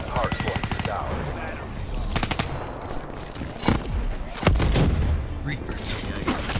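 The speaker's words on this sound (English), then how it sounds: "Freaking machine gun." Machine gun fire in Black Ops 3 rattles in loud, rapid bursts, with heavier booming impacts mixed in and a voice talking over the shooting.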